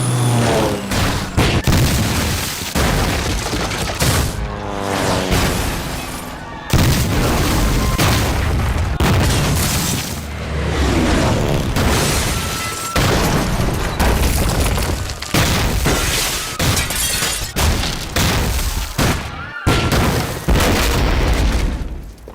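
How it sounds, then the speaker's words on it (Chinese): Aerial bombing in a war film as Japanese planes raid Nanjing: loud, dense booms and explosions burst one after another over a constant roar, with crashing debris and no clear speech. "日军对南京进行了第1次轰炸，66架日军飞机分2批飞临南京上空。 肆虐的轰炸中，6朝古都承受了旷世摧毁。"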